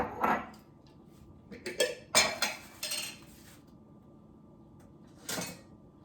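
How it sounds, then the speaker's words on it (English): A spoon stirs freshly made juice in a glass jar, giving a few sharp clinks and knocks in quick clusters, then a pause and one last rattle, close and fairly quiet. "I just stirred it up"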